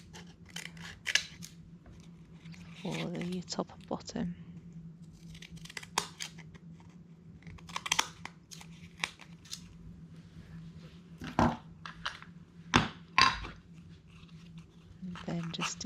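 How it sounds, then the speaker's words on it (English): Snips of decorative-edge crinkly scissors cutting paper for vintage-style ephemera miniature art, a series of short crisp cuts near the microphone, interrupted by quiet talk. "I'm just using another pair of crinkly scissors"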